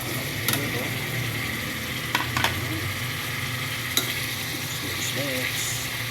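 Chicken tinola with papaya is stirred in a pot, giving a continuous simmering sizzle with occasional light scrapes and taps of a spoon against the pot, close and steady.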